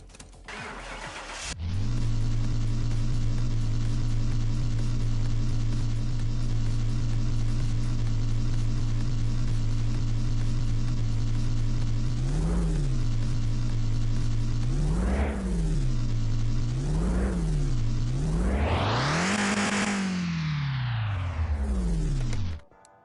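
A virtual car engine in Car Mechanic Simulator 2021 starts, settles into a steady idle, then revs up in several sharp blips, ending with one long high rev before cutting off.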